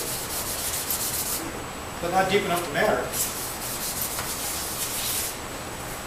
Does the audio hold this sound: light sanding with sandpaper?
yes